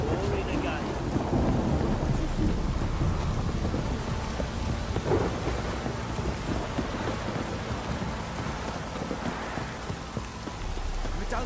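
Steady rain pours with rumbling thunder rolling underneath in The Witcher 3, a continuous, dense storm wash with occasional brighter drip splashes and faint wind, no voices heard.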